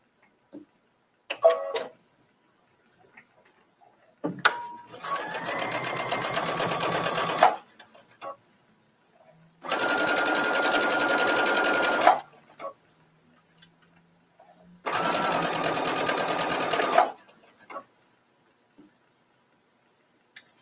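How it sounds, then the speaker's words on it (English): A sewing machine runs a straight stitch on binding for a bathing suit coverup, about an eighth of an inch from the folded edge. It whirs steadily in three separate bursts of about two to three seconds each, with quiet pauses between them. "I'm just stitching about an eighth of an inch from the edge of my fold"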